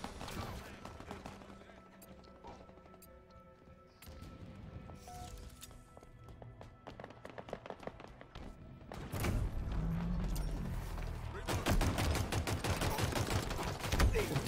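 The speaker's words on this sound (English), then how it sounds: "Did any of those shots register?" Gunfire in a Halo Infinite Big Team Battle match, with bursts of rapid shots and impacts that build into dense, loud volleys in the second half, mixed with game noise and some voice.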